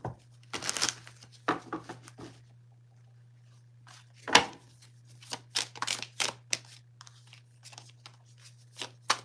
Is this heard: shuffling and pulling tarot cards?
yes